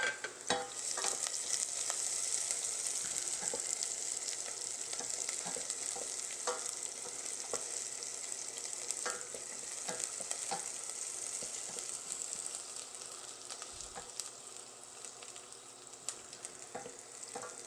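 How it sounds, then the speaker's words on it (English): Finely chopped garlic frying in oil in a pan, a continuous bright sizzle with occasional soft clicks and scrapes from stirring, close and steady, with no talk. "2 cloves of finely chopped garlic. And we're just going to throw them into the oil."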